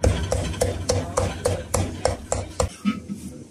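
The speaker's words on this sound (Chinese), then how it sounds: "切一下再剁馅" Hand-chopping of a pork-and-seafood dumpling filling for pan-fried potstickers: a steady run of about nine sharp, close knife strikes on a board, then the chopping stops and the kitchen goes quieter.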